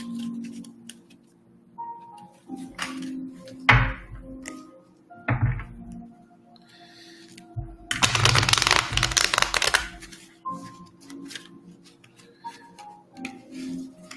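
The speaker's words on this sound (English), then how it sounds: "Let me give the deck a shuffle." Deck of cards being shuffled indoors, a few short riffling bursts followed by a longer buzzing riffle in the middle, separated by quiet handling clicks and taps, close and fairly soft.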